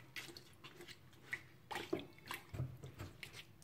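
Walnut leaves are swished and rinsed in a basin of baking soda water, giving soft, intermittent splashes and drips that sound close but quiet.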